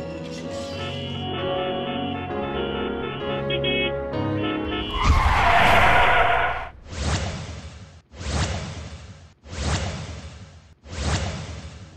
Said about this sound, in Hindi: सड़क से गुजरते हुए अचानक गाड़ियों के ब्रेक लगाने की आवाज सुनकर सब चौंक कर देखते हैं।